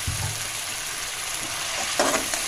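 Onion with garlic ginger paste fries in a pan, a close, fairly quiet sizzle with a brief stirring scrape near the end.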